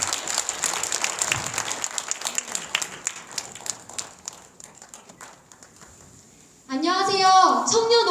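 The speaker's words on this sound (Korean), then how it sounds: "큰 박수로 응원해주시기 바랍니다." Audience applause at an evening church rally in Korea, a burst of clapping that thins into scattered claps and fades, then a loud voice speaking over a tonal background takes over.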